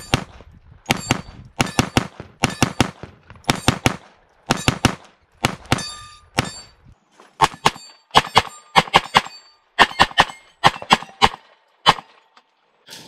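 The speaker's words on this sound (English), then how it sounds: "you're going to be able to get rounds off a lot faster with the TX22" A Taurus TX22 pistol fires rapid strings of sharp, loud shots in quick volleys separated by short pauses, with nobody speaking.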